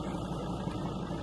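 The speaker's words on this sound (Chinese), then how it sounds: "这除了汽车的发动机的声音，听不到任何的声音。" A car engine hums steadily while driving along an empty road near the Chernobyl exclusion zone, a low, even rumble with no other sounds around it.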